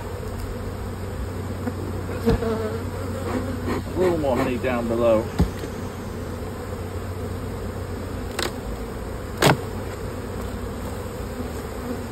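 Honey bees buzz steadily around the supers of a single brood chamber hive as they are driven out, a continuous hum with a few sharper close passes, while a person talks briefly over it.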